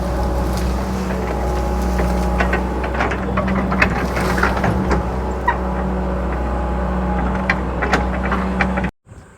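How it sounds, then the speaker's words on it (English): A John Deere 120 excavator works steadily on a retaining wall for a cattle catch, its engine drone continuous and fairly close, with intermittent knocks and clanks over the top before cutting off abruptly at the end. "We're just kind of trying to do the bigger work with the excavator."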